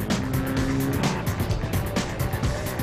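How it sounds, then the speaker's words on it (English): A pack of race cars launches at the start of the 24 hours race at the Nürburgring, engines roaring loud and dense with tire noise and overlapping passes, no voices. "At 4 p.m. exactly, 170 cars begin the fight for the Nürburgring crown"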